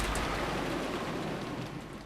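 Steady broadband rain in the Umineko When They Cry video game, a dense continuous hiss of falling water with faint low rumble beneath, holding even throughout and easing slightly toward the end, with no voices.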